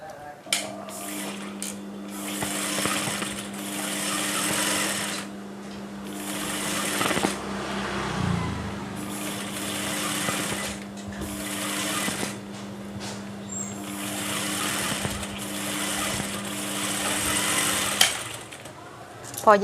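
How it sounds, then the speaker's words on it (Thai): Sewing machine stitching a pleated fashion sleeve, a steady close motor whirr with a needle chatter running in repeated bursts of several seconds, separated by brief pauses, with someone speaking over it now and then. "เย็บเลยค่ะ เย็บบนเลยนะพอเย็บ"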